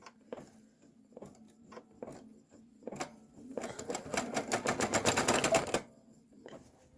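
A Kimberbell embroidery machine starts with a few separate clicks and taps, then runs into a fast, dense rattle of rapid stitching that builds and stops abruptly, followed by another click.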